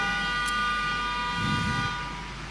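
A vehicle horn blares in a long, steady, loud honk that holds for over two seconds with a slight swell midway, heard alone without talk.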